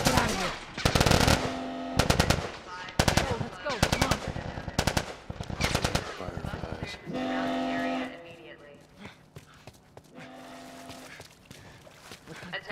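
Bursts of automatic gunfire and single shots from The Last of Us Remastered on PS5 crack loudly in rapid clusters, with pauses between volleys and shouting voices heard alongside.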